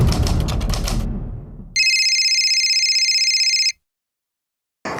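A telephone rings once in a single long electronic trill lasting about two seconds, loud and alone, after some brief clatter, then silence, set within a crime drama scene.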